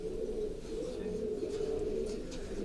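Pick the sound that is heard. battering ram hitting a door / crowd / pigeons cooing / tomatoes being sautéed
pigeons cooing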